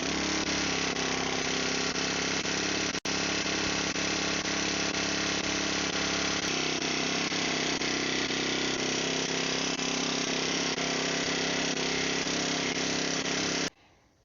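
A planishing hammer flattening sheet metal: a loud, steady mechanical drone with rapid machine pounding runs continuously for about fourteen seconds, then cuts off abruptly.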